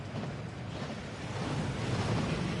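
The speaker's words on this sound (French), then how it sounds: "Cette cascade permet de dissiper tous les enchantements." Waterfall in the video game Hogwarts Legacy, a steady full rushing roar of falling water that swells slightly toward the end, with no voices.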